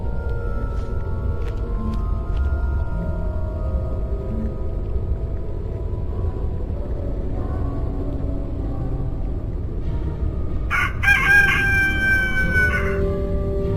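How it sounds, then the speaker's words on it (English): A rooster crows at dawn in the A Vampire Story video game, a single drawn-out call rising clearly near the end over a low, rumbling ambient background. "The sun has risen and the rooster crows."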